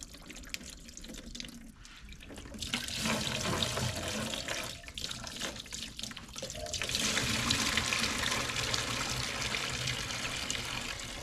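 Coolant pours and splashes steadily out of the water pump ports on a Chevy 454 big-block engine, a continuous watery rush that swells louder and stays strong at close range, with no talking.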